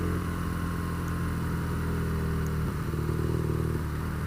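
A BMW R nineT motorcycle engine idling and pulling in to park, a steady close mechanical thrum with a slight dip and shift in pitch partway through, no talk.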